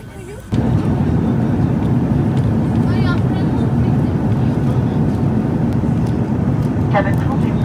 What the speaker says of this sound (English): Cabin crew is clear for landing. It's landing.